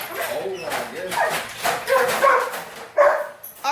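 Several dogs bark, yip and whimper indoors in a noisy, kennel-like din, bursts coming irregularly and close, with a person's voice mixed into the commotion.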